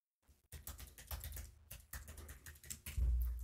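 Quick keystrokes on a computer keyboard as a password is entered, a brief burst of close clicking taps with no talk.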